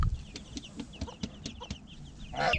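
Chicks and hens in a farmyard cluck in a quick irregular string of soft pecking clucks and faint peeps, ending with a slightly louder rustle, nearby and without any voices.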